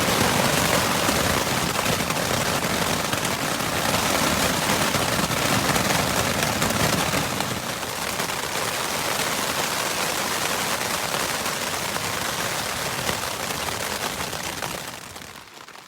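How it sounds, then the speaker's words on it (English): Steady heavy rain drums on a camping tent pitched at a trail campsite on the Pacific Crest Trail between Mt. Shasta and Etna, a dense continuous hiss lasting the whole stretch that eases slightly near the end, with no talking. "It's been raining for 3 hours straight."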